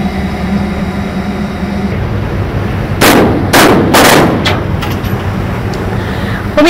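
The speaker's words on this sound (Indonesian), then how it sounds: "Pemirsa, baru saja dilakukan tembakan peringatan kedua." Warning gunshots fired from a patrol vessel at Vietnamese-flagged fishing boats, with three or four loud sharp cracks in quick succession over the steady drone of boat engines and wind.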